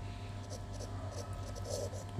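Pen or pencil writing on paper while working a pass-fail percentage maths problem, a steady soft scratching that runs through the whole short stretch, close and quiet over a low background hum.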